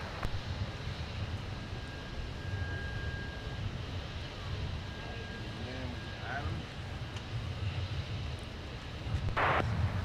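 A Delta jet departs Minneapolis airport, its engine roar a steady, broad rumble that carries through the whole span, with faint radio chatter and a brief burst of noise near the end.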